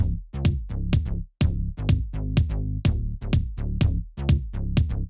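A punchy club kick drum joins two bass lines in an unprocessed music mix, a steady run of deep, tight hits landing about twice a second, loud with no voices.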